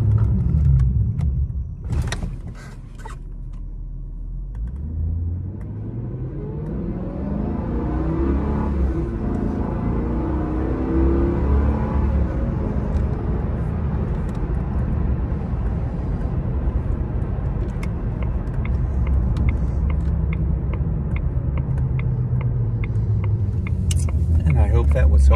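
A 2002 Jaguar XJR100 drives along with a steady engine and road rumble, slowing under braking with a shift in engine pitch before settling into a constant cruising hum.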